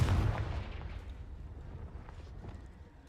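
A Confringo spell blast in a wizarding world video game: one deep, booming explosion at the start that quickly fades into a rumbling decay, alone with no voices.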